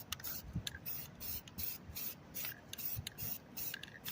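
An aerosol can spray-paints a quick coat onto wood and horseshoe pieces, giving short hissing bursts in an uneven rhythm that come close and fairly quiet.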